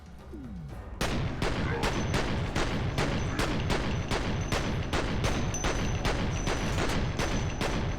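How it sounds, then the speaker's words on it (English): Dual pistols fire in the video game FEAR: a steady rapid string of about two dozen sharp, evenly spaced shots after a quiet opening second, loud and close throughout. "Or use dually pistols, like I should be using."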